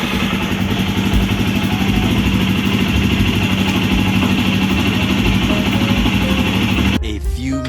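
A motorcycle engine running close by, a loud, steady throbbing idle with clattery texture that holds for about seven seconds before cutting off abruptly.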